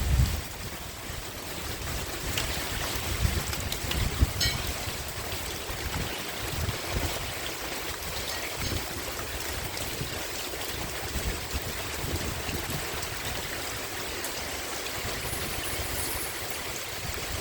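Heavy rain and strong monsoon wind sweep over coastal Pattani in southern Thailand, a steady, dense wash of rain and gusty roar filling the whole stretch with no speech.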